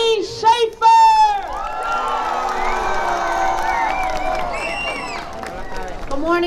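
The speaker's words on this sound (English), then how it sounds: "can we just make a big, big cheer for our superintendent, Miss Eileen Shafer?" A crowd at an outdoor school autism awareness flag event cheers, whoops and claps for the superintendent, with children shouting in a loud, sustained burst after a brief voice.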